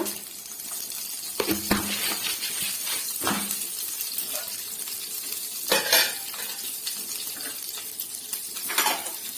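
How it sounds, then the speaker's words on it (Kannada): Dried red chillies and a few grains of salt frying in a little oil in a pan, steady close sizzle with intermittent spatula scrapes and clinks against the metal, no talking. "ಇವಾಗ ಇದನ್ನು ಫ್ರೈ ಮಾಡ್ಕೊಳ್ಳೋಣ ಚೆನ್ನಾಗಿ ಅದು ಫ್ರೈ ಆಗಲಿ ಒಣಮೆಣ್ಸಿಕಾಯಿ ಕಲರ್ ಚೇಂಜ್ ಆಗಬೇಕು"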